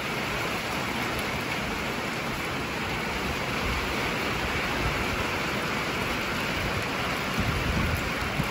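Heavy rain pours steadily in a storm, a dense even hiss of water falling close by with no let-up and no voices.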